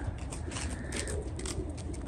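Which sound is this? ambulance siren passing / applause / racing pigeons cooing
racing pigeons cooing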